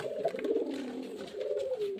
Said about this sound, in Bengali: সব মুর্শিদাবাদের দেশি গিরিবাজ লাইনের পায়রা